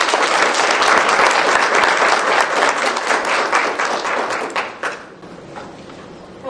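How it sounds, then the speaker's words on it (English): A crowd at a student leadership luncheon claps in a full, sustained round of applause that gradually thins out and fades to a few scattered claps. "can we please give a round of applause for our students and our parents?"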